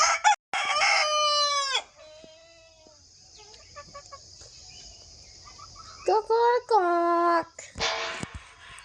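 Chickens cluck and a rooster crows several times nearby on a cold, misty early morning in a rural yard, the loud crows coming in bursts with quieter gaps between them.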